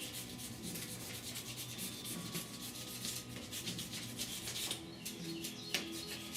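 Block sanding primer on the rusty roof of a 1969 Chevrolet C10 truck, a continuous rhythmic rasping rub close by, with faint bird chirps behind.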